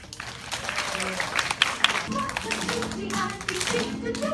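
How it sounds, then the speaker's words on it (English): Applause from an audience at a pre-K culmination ceremony: a dense patter of many hands clapping at moderate loudness, steady for several seconds, with voices mixed in. "All right, good, applause."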